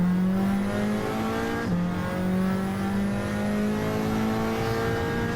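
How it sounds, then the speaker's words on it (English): Race car engine in a racing video game holding a steady loud drone, with a brief dip in pitch around the second mark as it shifts gear and then climbs again, continuous throughout. "Car going wide."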